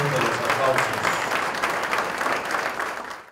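An audience claps loudly at a public administration award ceremony in Mexico, a dense steady round of applause that carries on evenly and cuts off sharply at the end.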